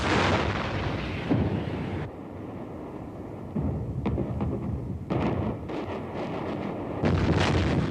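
Heavy artillery fire bombarding a city, deep rumbling booms and sustained blasts rolling through the air, loud and continuous with occasional sharper cracks and wind buffeting.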